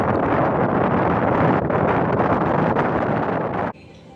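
Strong wind buffets the microphone on a cruise near Svalbard, a loud, continuous roar with gusty surges, then drops away abruptly near the end.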